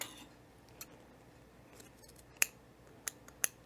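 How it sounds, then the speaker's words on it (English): Scissors snipping fabric to a seam point on a center-seam V-neck, a few faint, sharp, separate clips in an otherwise quiet room, close by. "now we're going to clip to that point"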